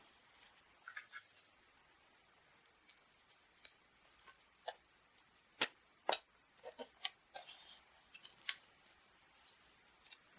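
Scissors snip through self-adhesive paper to cut a small square, a series of crisp irregular cuts and rustles, close and quiet, with no talking.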